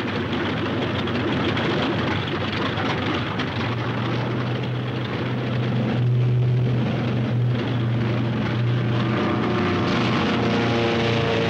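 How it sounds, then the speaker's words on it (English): American World War II warplanes pass overhead in the Pacific, a dense droning roar of propeller engines with a steady low hum rising in the middle and holding loud to the end. "The American planes are returning."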